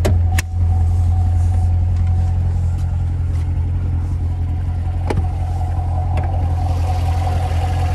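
A 2017 Chevrolet Corvette Stingray 2LT Z51 with its 6.2 liter V8 idles on a cold day, a steady, close, low rumble with a few faint clicks over it.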